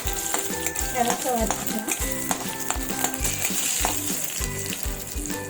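Cumin seeds sizzle in hot oil in a pan while being cooked for paniyaram, with a crackling hiss and repeated stirring clatter close by. A voice speaks briefly over the frying.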